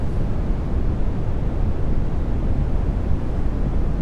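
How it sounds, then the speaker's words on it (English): Ocean waves rolling against a ship in the NAUTIS ship simulator game, a steady broadband wash of water and wind rumble that holds at an even level throughout with no talking. "Let the waves roll us back."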